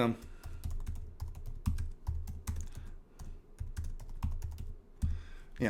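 Steady typing on a computer keyboard, a rapid stream of close, light key clicks with brief pauses, with soft talking faintly in the background.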